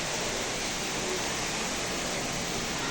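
Waterfall at Discovery Cove, a steady broadband rush of falling water, close and loud, continuing without a break throughout.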